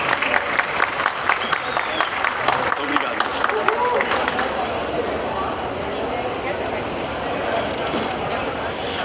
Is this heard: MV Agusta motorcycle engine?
no